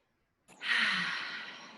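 Deep exhaled breaths through the mouth after essential oil is rubbed between the palms, a single long, close, airy sigh-like exhale that starts abruptly and fades slowly.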